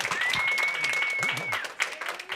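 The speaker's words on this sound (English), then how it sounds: "let's give another round of applause to Larry" Audience applause at a Q&A on living with Tourette syndrome, a steady, fairly close wash of clapping lasting a couple of seconds, with a faint voice murmuring underneath and a sharp clap near the end.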